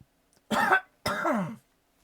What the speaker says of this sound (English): I'm going to be coughing a little bit in and out of this video